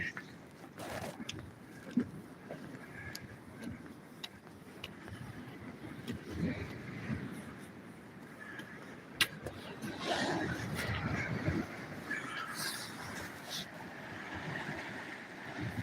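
Waves lap over a sloped shore at high tide, a soft irregular wash of surging water with gusts of wind, faint and distant, swelling louder toward the end.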